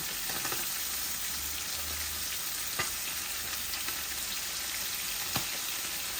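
Koi fish sizzles steadily as it fries in a pan, a dense, even crackle with a few sharper pops and spatters rising above it, close by and with no voices.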